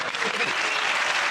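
Studio audience on a comedy panel show bursts into dense, steady applause, close and loud throughout the short burst.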